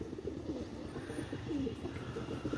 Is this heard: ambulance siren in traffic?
no